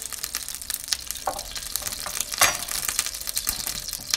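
Butter sizzling and crackling in a heated frying pan while bread cooks, a steady close frying hiss with scattered pops and one brief louder burst, no voices.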